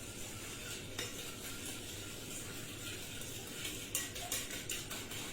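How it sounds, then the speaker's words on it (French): A spoon stirs a vanilla panna cotta mixture in a pot, making light scraping and clinking taps against the metal over a faint steady background. "Donc là, bien sûr, je mélange avec ma cuillère magique"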